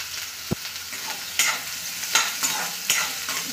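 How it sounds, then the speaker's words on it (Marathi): Potato pieces frying and being stirred in a pan for sabudana usal, a steady close sizzle with periodic scraping stirs and light clinks, no voices. "आलू टाकून घेऊया आणि या आलूला आपण फ्राय करून घेऊया।"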